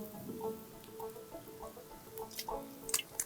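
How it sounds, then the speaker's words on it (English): A small amount of water is poured into a pan of apples set over a campfire to stew, producing soft, quiet dripping and pattering splashes in irregular bursts close by, with no speech. "I'm going to add just a little water for the apples as they get started to stew in"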